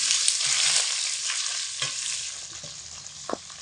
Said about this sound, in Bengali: হাই আঁচে রেখে ডাটা আর আলুগুলোকে অনবরত নাড়াচাড়া করে নিয়েছি 2 মিনিট মতো।